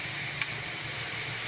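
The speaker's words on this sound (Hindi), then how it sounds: "देखिए मसाला हमारा भुन गया अच्छे से, बिल्कुल अच्छे से भुन गया है।" Masala spice paste frying in a pan for ridge gourd sabzi gives a brief, steady sizzling hiss with one small spike of crackle partway through.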